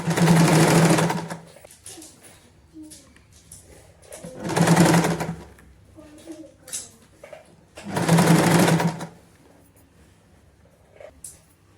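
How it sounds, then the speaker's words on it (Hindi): Sewing machine stitching a zip onto palazzo pants in three loud, close bursts of rapid whirring stitches, each about a second long, with quiet handling noises in the pauses between runs. "अब पूरी स्टिच हम ऊपर तक लेके आएंगे।"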